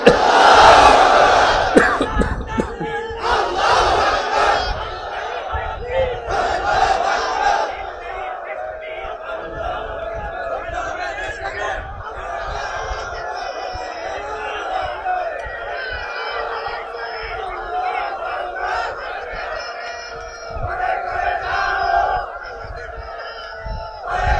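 Crowd at a Bangladeshi waz sermon roaring a takbir response, a loud massed shout at the start followed by sustained chanting voices and echoing crowd noise through a large outdoor space.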